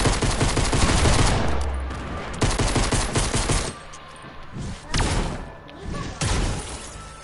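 Rapid bursts of video game gunfire, loud and close, come in clustered volleys with short gaps, mixed with crackling impact and shattering effects.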